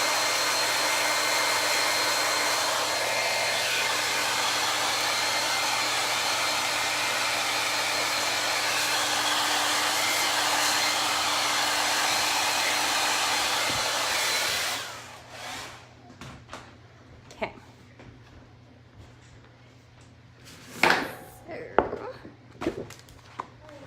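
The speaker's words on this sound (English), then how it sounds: "because I have cool mode, to cool it down, my blow dryer." A hair dryer on cool mode blows steadily for about fifteen seconds, then shuts off, followed by quiet handling sounds and a few soft knocks.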